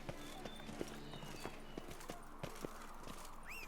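Horse hooves clop at a steady walking rhythm in the video game The Witcher 3, fairly faint under a low ambient bed, with a brief whinny-like call near the end.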